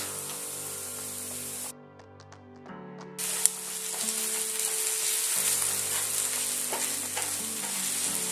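Tomato paste fries in a pan with white beans, giving a steady close sizzle. A brief stir partway through lowers it for a moment before the frying hiss returns at full strength.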